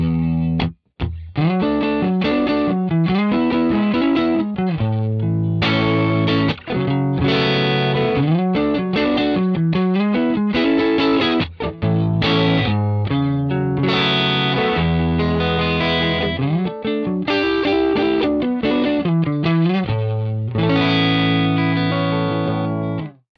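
Gritty, lightly overdriven electric guitar through an Axe-Fx III Fender tweed amp model plays a continuous chordal riff, full and loud throughout with a touch of chorus shimmer.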